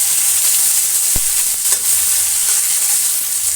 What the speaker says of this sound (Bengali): পেঁয়াজ কুচি রসুন কুচি দিয়ে একটু নাড়াচাড়া করে নেবো।